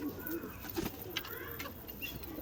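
A Madras pigeon cooing nearby, a few soft throaty coos at close range, faint and low against a quiet background.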